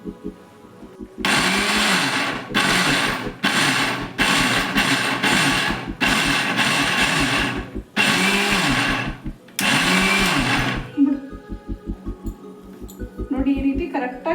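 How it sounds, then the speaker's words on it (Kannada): A mixer grinder jar pulses in loud repeated bursts while grinding roasted peanut chutney powder coarsely, the motor whirring through about six runs separated by short pauses, with quieter clinking afterward. "ಇವಾಗ ಮತ್ತೆ ಜಾರ್ಗೆ ಹಾಕ್ಕೊಂಡು ಒಂದು ರೌಂಡ್ ಹಾಕೋಬೇಕು."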